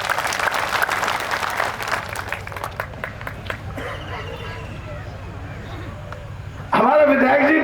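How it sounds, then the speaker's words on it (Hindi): An audience at an October 2023 stage show claps in sustained applause with crowd murmur, loud and continuous, then a sudden louder burst near the end. "इनके लिए ताली बनती है, इनके लिए ताली बजवाओ।"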